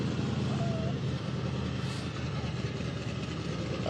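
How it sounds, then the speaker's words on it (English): An old fire engine running during a classic car cruise night in Redding, a steady, dense engine rumble mixed with outdoor crowd noise, loud and constant without clear breaks. "That's an iconic sound, that old fire engine, right?"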